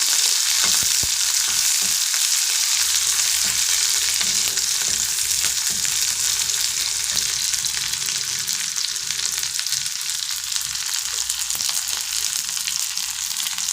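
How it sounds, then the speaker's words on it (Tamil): Onion and crushed garlic sauté in hot oil with a loud, continuous sizzle and occasional stirring scrapes, steady throughout with no voices. "நம்மளுடைய வெங்காயமும் பூண்டும் நல்லா வதங்கி வந்துச்சு."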